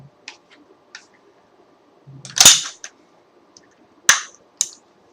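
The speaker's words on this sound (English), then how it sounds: "Let me go ahead and drop the magazine here." Magazine released from a loaded Bushmaster XM15 E2S AR-15 rifle, heard as a few sharp metallic clicks and one louder clack near the middle, with another clack and a click shortly after, all close up with no talk.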